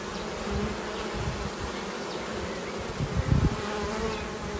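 Bees flying into a beehive make a steady, close buzzing drone throughout, swelling briefly louder near the end as insects pass close by.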